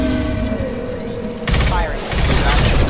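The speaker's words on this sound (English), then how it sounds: "the assault rifle doesn't start off too well. It's like, wow, I was shooting that and it was all over the place" Assault rifle fire in Mass Effect 2 comes in dense bursts of rapid automatic shots, with a louder second burst after a brief lull, over game background sounds.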